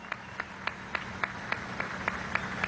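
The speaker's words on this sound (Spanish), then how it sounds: "Un aplauso al profe Aristóbulo Isturiz." Faint, evenly spaced claps at a political celebration event, a slow regular beat of single distinct hand claps over a low background hum, quiet and somewhat distant.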